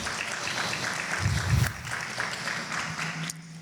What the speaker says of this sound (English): Clap like you're clapping for yourselves.